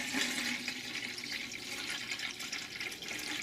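Water pours steadily from one humidifier container into another, a continuous close splashing and trickling rush with no talking.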